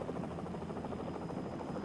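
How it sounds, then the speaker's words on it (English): A Coast Guard helicopter hovers nearby at a rescue scene, its rotor thudding in a steady rapid pulse over a constant engine drone. "The Coast Guard helicopter is now hovering."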